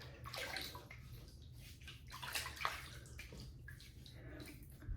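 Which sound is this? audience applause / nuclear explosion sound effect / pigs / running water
running water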